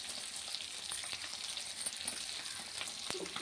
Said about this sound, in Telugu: ఇది మొయ్యి చేపల ఫ్రై